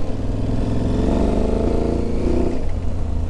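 An Aprilia Tuareg 660 motorcycle accelerates, its twin-cylinder engine roaring loud and close with rising harmonic pitch, then easing off near the end, with steady wind rush underneath.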